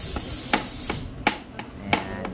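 Sharp metallic hammer strikes on an aluminum part while replacing a Suzuki Raider 150 FI motorcycle's steering ball race, about six irregularly spaced blows, some louder and ringing, over a steady background noise.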